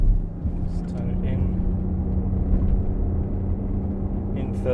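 BMW X4 M40d xDrive diesel crossover revving in third gear to about 4,000 rpm: a steady, loud low engine drone with a sustained hum, heard from inside the cabin under a voice.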